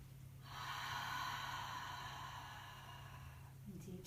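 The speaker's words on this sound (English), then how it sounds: "Take a nice deep breath in." A slow, deep inhaled breath during a quiet yoga session for sleep, a soft airy rush close to the mic that swells and then holds for a few seconds in a still room.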